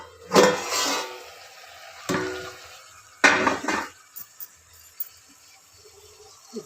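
A metal lid settles onto a cooking pot of tomatoes, salt and turmeric on the stove, with several clattering knocks and a quieter scrape between them, close and clear with no talking.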